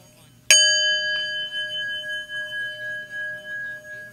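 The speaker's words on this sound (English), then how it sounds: "Inviting the bell to sound." A single bell is struck once, ringing out clear and bright, its tone lingering and slowly fading over several seconds with a soft low hum underneath.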